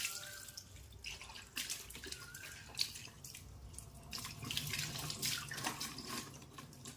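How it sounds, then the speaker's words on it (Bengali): Water runs from a pipe into a container in a household chore, a close, continuous splashing and trickling that swells at times, with irregular drips and knocks. "পাইপটা নিয়ে এসে জলটা ভরে দিচ্ছি।"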